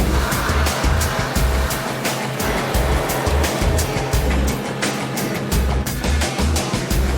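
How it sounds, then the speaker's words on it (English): A truck's walking floor runs to unload its cargo, a loud rhythmic mechanical thumping pulse repeating about every half second over a steady rumbling engine and clattering drone. "Once he's pressed the button to set the walking floor running"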